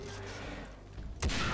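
Gunfire in the video game Far Cry 3 Blood Dragon: a low rumbling battle bed followed by one sharp, loud sniper-style shot near the end, with no voice over it.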